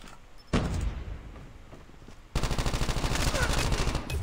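Type 25 assault rifle hip-fired in Call of Duty Mobile: a short burst, a pause, then a sustained rapid stream of automatic gunfire, loud and close with a steady rattling rhythm.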